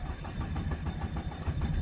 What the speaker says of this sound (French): maintenant je vais vous faire démarrer la voiture, vous allez voir